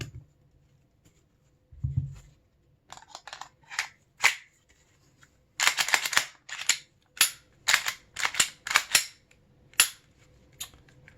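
Glock 43 pistol being function-checked after reassembly: a series of sharp, close mechanical clicks and snaps from the trigger and slide, irregular and isolated, with quiet gaps between them.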